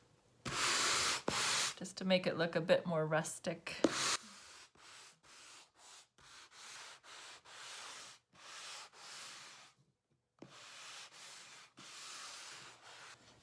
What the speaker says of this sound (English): To knock it back again with some sanding,